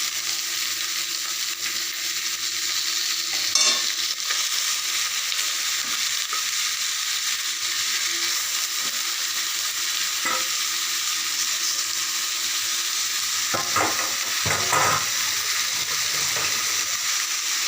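Lote (Bombay duck) fish frying in hot oil, a continuous bright hiss and crackle close by, with occasional louder pops and stirring scrapes toward the end.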